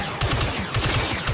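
Quick repeated blaster shots from Star Wars Battlefront 2 during the Battle of Endor, a steady rhythmic volley of sharp, close, loud bursts with no talking.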